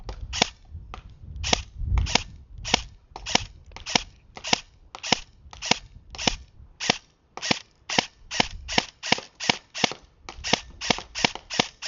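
Airsoft gun, a low-power close-quarters model, firing a test string at 50 feet: about thirty sharp snapping shots at a steady, slightly uneven rhythm, fairly close and clear with no talk.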